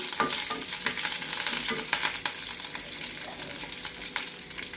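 Curry leaves dropped into hot oil with urad dal, crackling and sizzling steadily while a spoon stirs with intermittent scraping taps.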